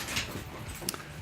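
A dog whimpers and whines in a few short, high, faint bursts indoors, mixed with background household noise.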